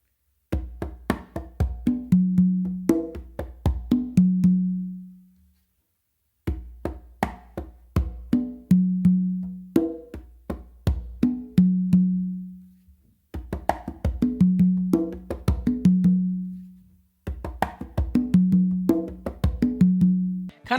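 Songo rhythm on three congas, played up close: rapid slaps and taps build into resonant open tones, repeated in four steady phrases with short gaps between them.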